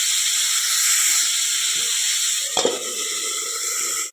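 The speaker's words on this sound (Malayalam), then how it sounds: "നമ്മൾ കക്കയിറച്ചിക്കായി സബോള വഴറ്റുകയാണ്." Sliced onions sizzle steadily in hot oil in a pan for clam curry, a loud continuous hiss with a brief clatter of stirring midway, no talking.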